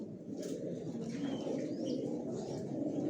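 Racing pigeons of the Johnson line coo softly and continuously at a loft, a steady low murmur with faint chirps and a brief flutter of wings over it.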